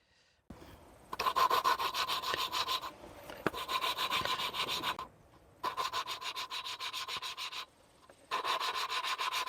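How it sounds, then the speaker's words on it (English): Valves of a 1941 Chrysler flathead six being lapped during a valve job, a close, gritty rubbing rasp that comes in sustained bursts with short pauses between. "You can actually hear it grinding."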